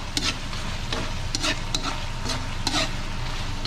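Adobo simmering and frying in a pan, with a steady sizzle and a few brief scraping stirs of a spoon against the pan, up close and with no talking.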